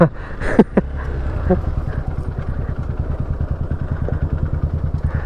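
A close tractor engine chugs in a steady, rapid rhythm, with voices and a brief clatter at the start.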